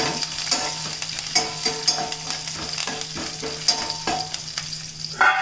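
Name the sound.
tempering (tadka) frying in pan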